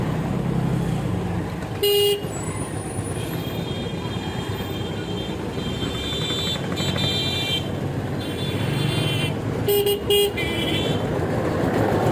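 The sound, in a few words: car horn honking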